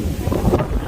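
Strong wind roars and buffets the microphone in a brief, loud gust of rumbling noise, outdoors on an island property in Puerto Rico.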